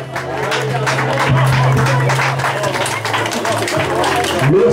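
A crowd applauds cyclists as they set off from the start of a criterium race, the scattered clapping and cheering steady and fairly close, with a low hum and voices mixed in.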